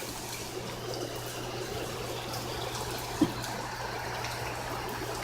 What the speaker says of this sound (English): It is pouring over here.